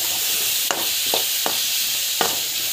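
Tomatoes with chili powder sauté in a pan, giving a constant close hiss of sizzling oil punctuated by a few sharp clicks and scrapes of a spatula stirring.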